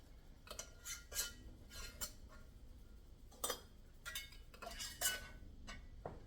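Metal canning rings being screwed onto glass jars full of chicken stock: faint scattered clinks and scraping twists of metal against glass, coming in short irregular bursts in a quiet room.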